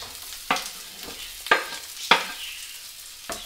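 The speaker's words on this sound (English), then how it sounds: "You hear that sizzle?" Vegetables sizzle in hot oil in a skillet, with a soft steady hiss broken by several sharp clacks of stirring against the pan.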